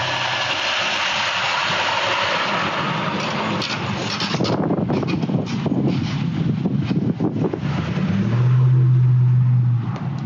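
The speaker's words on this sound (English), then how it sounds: "we have a truck going by" A truck drives past outside, a loud broadband engine roar with wind-like rush that swells and holds for several seconds, then a low steady drone near the end as it passes.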